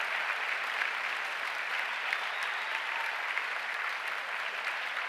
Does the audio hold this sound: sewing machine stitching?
no